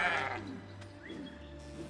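A sheep bleats once, short and fairly faint, in the post-apocalyptic colony-building game Surviving The Aftermath, over a low steady game ambience with a few soft interface tones.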